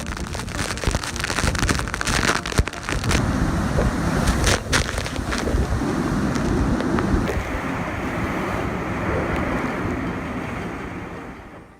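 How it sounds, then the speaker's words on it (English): Hurricane Hato's storm surge and gusting wind wash through flooded streets, a loud, broad roar of waves, wind and splashing water that swells and then fades toward the end. "Hurricane Hato seems to have taken making waves to a whole new level, turning the streets into a surprise splash zone"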